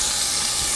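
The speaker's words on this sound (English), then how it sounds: "So my oil's nice and hot now, and I'm going to add my onions" Chopped onions dropped into hot sunflower oil for a veggie chili, an instant loud, steady hiss of sizzling that holds at full strength throughout the short moment, with no talk over it.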